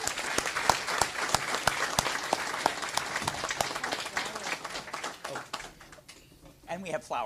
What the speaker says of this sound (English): Join me in a big round of applause for them.